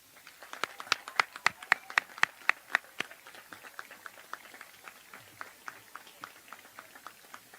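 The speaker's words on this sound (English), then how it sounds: "Please join me in a round of applause for our SHS staff." Sparse, distinct handclaps from a small group at a Sherwood High School graduation ceremony honoring staff, a few dozen separate claps that start strong and fade into a scattered patter, with faint voices underneath.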